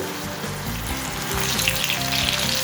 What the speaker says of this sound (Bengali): হাই হিটে আমাদের কর্নগুলোকে ভেজে নিতে হবে।